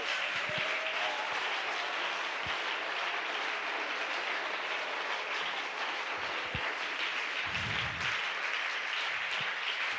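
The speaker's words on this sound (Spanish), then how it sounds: "Dele ese aplauso mejor a Dios." A church congregation applauds steadily and loudly for the whole stretch, a dense, even wash of clapping with a few low thumps underneath.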